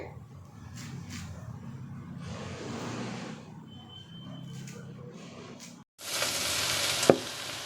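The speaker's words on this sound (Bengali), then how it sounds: "শাক কেটে নিয়ে কড়াইয়ে দিয়ে দিলাম।" Chopped jute leaves go into a hot wok. Quiet rustling and handling give way to a sudden loud hissing rush with a thud near the end.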